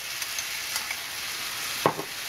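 Pork sizzles in a hot pan with spicy Korean sauce, a constant hiss broken by occasional scraping stirs and one louder sizzle burst.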